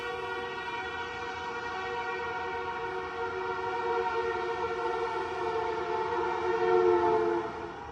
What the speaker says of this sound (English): there's a fire truck or ambulance going by